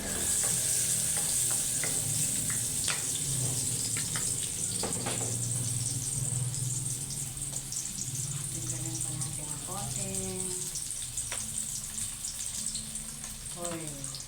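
Food sautéing in a pan after potatoes and carrots are fried, a continuous hissing sizzle with intermittent stirring clatter and scraping close by, with brief watery splashing sounds mixed in.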